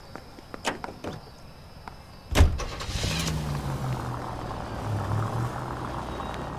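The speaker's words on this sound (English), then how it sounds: "Nice car, Roy." Car from the video game L.A. Noire: a door thump, then an engine starting and settling into a steady idle rumble that runs to the end, close and moderately loud.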